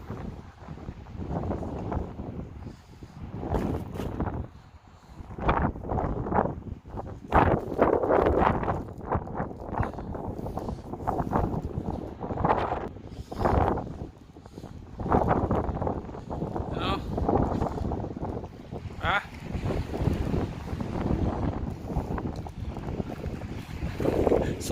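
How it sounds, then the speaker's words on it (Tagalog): Strong wind blowing during a wind warning, heard as a loud, continuous buffeting roar with gusty surges across the whole stretch, with no talk over it. "Sobrang lakas ng hangin dito pagka ganyan."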